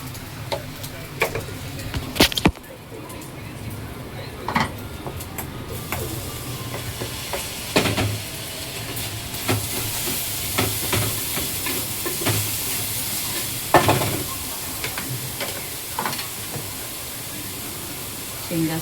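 Tomato masala cooking in a pan: a continuous steady sizzle and hiss with occasional stirring clatter, running loud throughout while someone talks over it.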